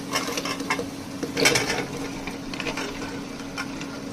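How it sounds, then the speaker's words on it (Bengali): Washed cauliflower, beans and carrots tumble into spices frying in a pot for vegetable khichuri, giving a soft sizzle with clattering pieces and a louder burst of rattling and scraping midway, close and steady, no talking. "এখন ধুয়ে রাখা সবজিগুলো দিয়ে দিব। এখন দিয়ে দিব ফুলকপি, সিম এবং গাজর।"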